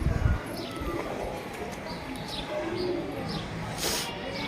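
Pigeons on a rooftop, including a copper-coloured male, make soft, distant coos and faint rustles under a muffled, noisy background.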